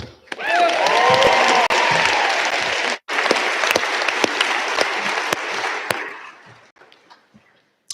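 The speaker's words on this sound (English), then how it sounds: "Round of applause." An audience at the Telluride High School graduation ceremony breaks into loud, sustained applause that holds steady, dips briefly, then gradually thins out into scattered claps.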